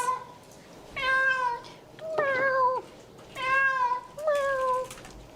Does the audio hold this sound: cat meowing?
yes